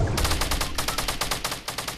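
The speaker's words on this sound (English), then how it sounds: "I still hear shooting." Rapid automatic gunfire in the video game Fortnite rattles in a fast, evenly spaced burst of sharp shots lasting about two seconds, loud and close.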